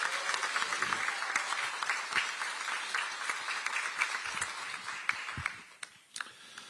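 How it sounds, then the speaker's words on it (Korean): Audience applause at a Democratic Party supreme council meeting in Chungju, a dense steady clapping from a crowd that carries on throughout and thins slightly near the end, with no talk over it. "우리 다 같이 박수 한번 보내고"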